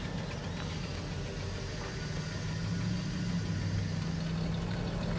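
A truck engine with a new aftermarket exhaust idles nearby in a low, steady rumble. The sound grows slightly louder partway through, and there is no talking.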